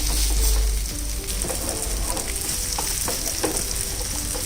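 A vegetable pancake fries in a hot pan with a steady crackling sizzle, broken by a few short clicks and taps from a spatula as it is turned, with no voices.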